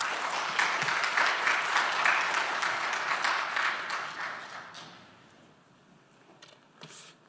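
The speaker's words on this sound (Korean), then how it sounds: "우리 나오실 때 큰 박수로 환영하겠습니다." A church congregation at a Wednesday prayer service applauds to welcome a visiting pastor, a full round of clapping that tapers off after about five seconds, leaving a few scattered claps and room noise.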